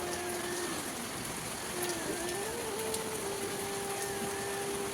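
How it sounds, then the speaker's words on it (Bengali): Heavy morning rain heard from inside a house with a concrete roof, a dense, steady hiss of downpour throughout. "তো দেখো কত বৃষ্টি"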